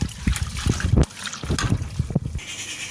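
Pointed gourd leaves are rubbed and squeezed by hand in a bowl of water, giving soft, irregular trickles and small splashes up close.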